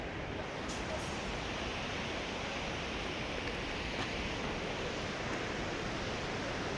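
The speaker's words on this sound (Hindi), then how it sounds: "ये पीछे झरना है, ये नीचे झरने का अभी तो कम है पानी इसमें" A waterfall in Uttarakhand's Darma Valley, running with little water, produces a continuous broad rushing roar, steady and unbroken throughout with no distinct splashes.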